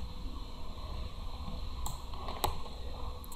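A computer keyboard used for shortcut presses while laying out a flyer in CorelDraw, with a few faint, sharp clicks spaced apart over a steady low background hum.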